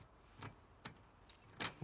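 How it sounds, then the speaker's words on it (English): Keys jangle in the video game The Last of Us Part II, a series of short, crisp metallic rattles coming in about five quick bursts over a quiet background. "Did you steal my keys?"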